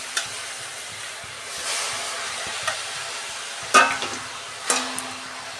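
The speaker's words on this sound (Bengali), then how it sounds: "আমি শাকটা 2 মিনিট ভাজতে নেব" Washed potato greens frying in a pan, a faint, steady sizzle with a few soft clicks and clatters of stirring, with no voices.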